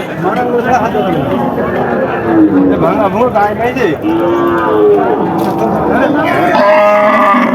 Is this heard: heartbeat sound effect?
no